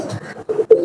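A teddy pigeon gives a brief, close, soft coo in two short rounded pulses, alone and without talk.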